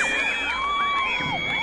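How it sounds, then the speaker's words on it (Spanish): A rodeo crowd at a jaripeo lets out whoops and high cheering, with whistles rising and falling over a dense, steady roar of voices in a short burst. "les pedimos un aplauso caluroso para usted, para recibirlos"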